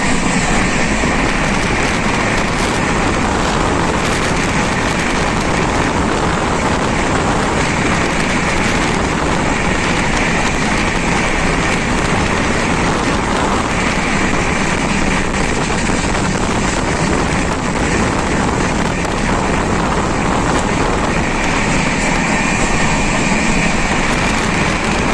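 The Mumbai Central–Amritsar 12903 Golden Temple express runs along, heard from inside as a loud, unbroken rumble and rattle of wheels and carriage that stays steady throughout.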